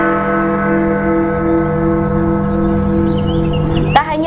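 A clock tower bell in Bukittinggi, Indonesia, rings on the hour, and its rich sustained tone with long ringing harmonics stays loud and steady throughout, with a sharp new strike near the end.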